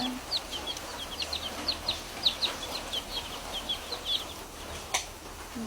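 Chicks in a farmyard setting peep and cluck in quick, repeated high-pitched bursts, close and fairly clear over a quiet background, with no one talking.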